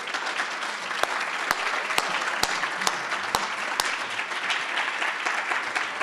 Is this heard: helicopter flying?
no